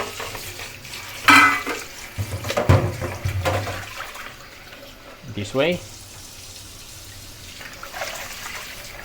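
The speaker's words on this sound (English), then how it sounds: "put the beef into a container and add some water" Tap water splashes and pours into a kitchen container of raw beef set out for rinsing, with clinks of dishes and brief bursts of running water. A voice speaks briefly.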